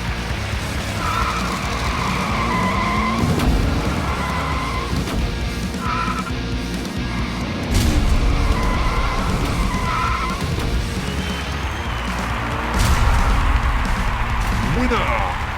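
Diecast toy cars, including a Ford GT, racing down a track in a tournament final, a continuous rolling rumble with rising whirring passes over a steady noisy bed, close and fairly loud.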